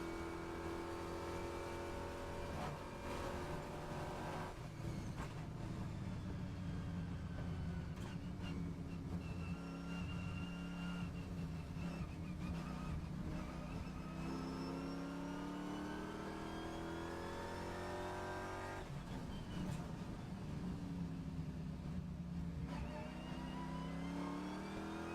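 Race cars on the long Mistral straight pass in repeated rising and falling engine whines, accelerating and fading, heard faint and distant without talk.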